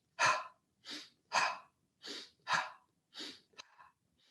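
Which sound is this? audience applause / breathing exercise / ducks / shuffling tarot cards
breathing exercise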